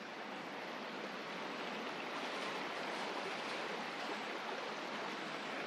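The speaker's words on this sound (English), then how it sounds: "So you're at the top of the waterfall" Water rushing over the top of a waterfall makes a steady, dense roar close by, unbroken and even for the whole stretch with no voices.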